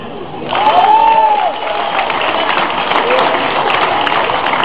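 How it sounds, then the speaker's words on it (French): An audience applauds a newly sworn-in deputy marshal at a country-tradition league ceremony, a steady, close wash of clapping that swells after a brief lull and carries on evenly, with a few voices mixed in. "On peut l'applaudir?"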